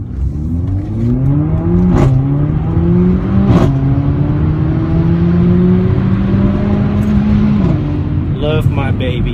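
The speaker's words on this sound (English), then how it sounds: "you can just push down on the gas pedal, and this thing move as well" A Mercedes-Benz CLA45 AMG engine pulls hard through several rising sweeps with clear gear changes, loud and close from the cabin, droning strongly throughout with a brief tail of revs at the end.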